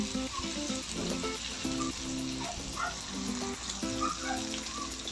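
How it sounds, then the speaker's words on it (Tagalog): Dried bisugo fish being sautéed in a pan, a constant low sizzle with faint clinks and tonal hums in the background, no speech. "Ayan, gisa lang natin yan."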